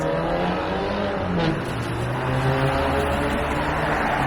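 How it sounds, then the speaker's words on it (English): A passing car's engine drones steadily close by on a snowy North York, Toronto street, a loud continuous rumble with no one talking. "someone's car was loud"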